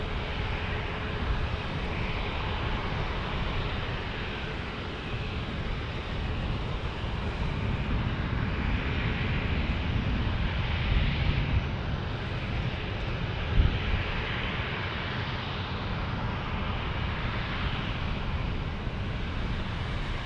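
A Southwest Airlines jet on approach and another preparing for takeoff at San Diego airport's single runway, a steady broadband jet engine roar that swells slightly mid-way, heard from a distance outdoors.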